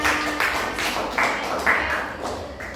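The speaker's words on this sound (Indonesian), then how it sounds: "Tepuk tangan untuk tiga orang" Classroom applause for three students comes as a short, fairly even patter of claps with a rhythmic pattern of loud bursts, close and without talk.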